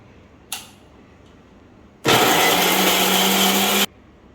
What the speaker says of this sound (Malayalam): ആദ്യം മിക്സിയിലൊന്നും അരച്ചെടുക്കാം.